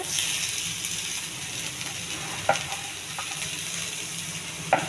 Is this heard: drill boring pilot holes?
no